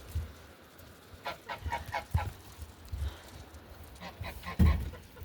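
Geese honk repeatedly around a backyard chicken coop, a cluster of calls followed by a louder close burst near the end, over outdoor ambience with no talk.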